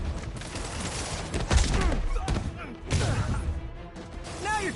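Bursts of gunfire in a Spider-Man video game, several loud cracks and rattling volleys spread over a few seconds amid combat noise, with game voices speaking over the action.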